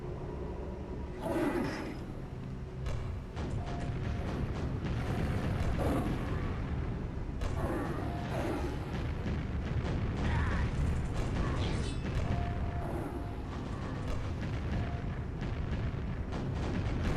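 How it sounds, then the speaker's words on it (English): Rocket explosions boom one after another in the video game Quake, dense overlapping blasts and rumbling impacts layered with mechanical game noise, loud and continuous throughout. "So many rockets happening in here."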